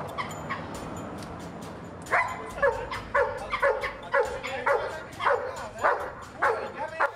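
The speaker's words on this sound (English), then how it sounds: "dog attacks would be thieves" A guard dog barks in repeated sharp bursts while confronting would-be thieves outdoors at night, loud and close, with yips and whimpers among the steady barking after a quieter opening.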